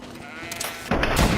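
A short sheep bleat in the video game Greedfall, loud and near, lasting about a second over a noisy background.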